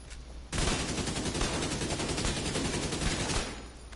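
Automatic SMG fire in The Division, a sustained rapid burst starting abruptly and running for about three seconds before tapering off, loud and close with no talking.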